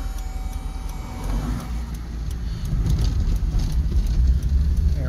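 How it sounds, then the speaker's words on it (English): A car drives past on a road busy with trucks, heard from a yellow CVCC Honda Civic waiting to turn around; a low engine drone swells louder in the second half as the vehicle nears. "Let's let a car go by."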